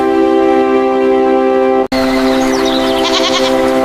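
Goats bleat loudly and close by in a long, sustained, nasal cry, then a brief break and another wavering bleat.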